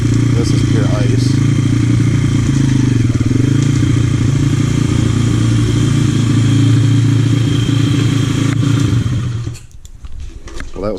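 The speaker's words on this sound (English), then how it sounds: "I'm out riding the bike." A motorcycle rides across pure ice in winter, its engine droning loud and close with a steady, slightly wavering pitch before it cuts down near the end, while a voice talks over it.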